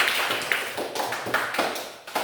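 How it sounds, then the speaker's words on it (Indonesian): Classroom applause for a student group, a short burst of scattered hand claps and taps that rises and falls over about two seconds. "Tepuk tangan untuk kelompok 3."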